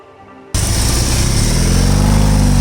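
A BMW R18 motorcycle rides through congested traffic, its engine starting abruptly after a brief quiet moment and then holding a loud, steady, low rumble right up close.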